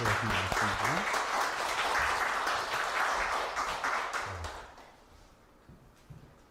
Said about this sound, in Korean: 박수 다시 한번 할게요.